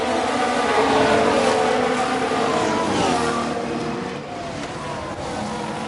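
A Ferrari Formula 1 car in the racing management game F1 Manager 22 drones past with a steady, loud engine whine whose pitch rises and falls, mixed with broadband track noise and fading slightly toward the end.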